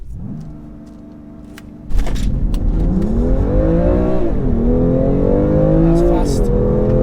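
A stock BMW M2 Competition launches from a standstill in a 0-60 run with two people aboard. The engine idles, then roars up sharply, and its rising revs break into steps at each gear change, loud and close from inside the car.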